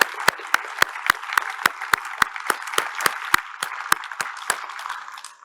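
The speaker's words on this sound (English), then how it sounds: "Let's give them all another round of applause." A small audience claps at an evening talk at Space Center Houston. The claps are sharp, distinct and fairly regular, and they keep going for several seconds with no talking.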